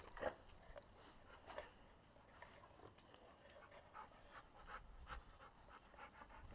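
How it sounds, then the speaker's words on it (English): Puppies pant in quick rhythmic breaths close by, faint and soft, with occasional small whimpers and chewing sounds mixed in. "Puppies!"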